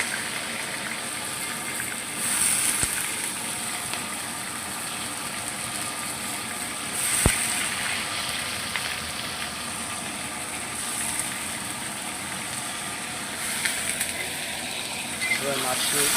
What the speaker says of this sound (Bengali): ঠান্ডা জলে ভেজানো সয়াবিনগুলো আমি এখন কড়াইয়ের মধ্যে দিয়ে দেবো